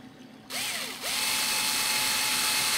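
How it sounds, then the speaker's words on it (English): A power drill driving screws into a Matt Chapman Eagle 580 model airplane wing whines loudly and steadily, its motor pitch rising as it spins up, close by with no talking. "Now at this time we can go ahead and put the screws in, and I can use this drill if I'm very careful."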